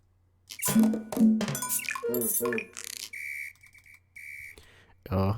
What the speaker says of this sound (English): let's use our whistle